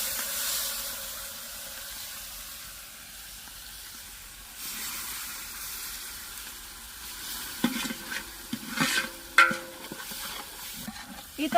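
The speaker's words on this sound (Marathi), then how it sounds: "काळा मसाला आपण तेलामध्ये चांगला परतून घेऊया" Black masala fries in oil for a whole-goat kanduri mutton dish, a soft hiss at first, then louder scraping stirs and bursts of sizzle toward the end.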